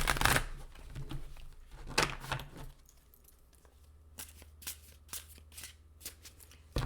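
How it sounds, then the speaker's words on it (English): Tarot cards being shuffled up close in several quick riffling bursts, with soft taps and pauses between, no voices. "let me just shuffle these cards a time or two"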